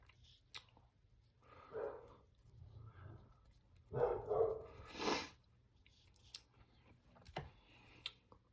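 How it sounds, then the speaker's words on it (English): A dog barks a few times at a distance, short muffled woofs spread across the clip over a quiet room, with no talking. "Sorry that you can hear the dog in the background."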